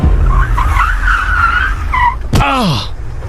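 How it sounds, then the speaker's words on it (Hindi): A car brakes hard and its tires skid with a loud, sharp screech that sweeps downward, rising briefly out of steady road and engine noise. Talk is heard just before it. "तभी गाड़ी में जोर का ब्रेक लगा"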